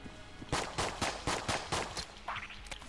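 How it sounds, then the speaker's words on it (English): Gunfire at a chest in the video game Enter the Gungeon, six evenly spaced loud shots ringing out in a steady rhythm, then a softer burst and scattered clatter as the chest explodes. "I'm going to shoot this chest."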